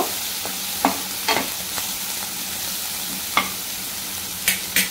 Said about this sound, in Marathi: हे परत चांगलं परतून घ्यायचं